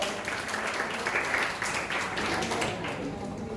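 An audience at a campus school foundation day celebration claps for prize winners, a moderate, continuous patter of many hands, with a voice faintly present beneath.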